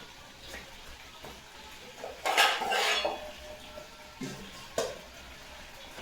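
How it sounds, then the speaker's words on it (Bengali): Two metal plates are picked up in a home kitchen, giving a few sharp clinks and a brief clattering burst, close and fairly quiet, with no talk. "দেখতে পাচ্ছ দুটো থালা নিয়ে নিলাম"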